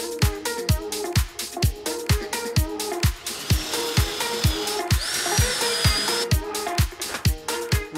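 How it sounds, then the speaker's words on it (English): A power drill drilling bolt holes in a clamped table revs in rapid, evenly spaced bursts, loud and close, with a higher whining tone rising briefly in the middle. "I will now drill holes for the bolts there as well."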